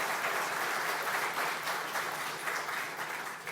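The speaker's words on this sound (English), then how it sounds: "Everyone give them a round of applause." An audience at a talk on a solo Pacific rowing adventure breaks into steady, dense applause that fills the room and holds at an even level throughout.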